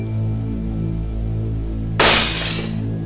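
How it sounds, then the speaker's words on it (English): Glass shatters suddenly in the horror video game Seven Mysteries The Last Page, a bright crash with a brief tinkling tail over a steady low ambient drone and hum. "He heard glass breaking."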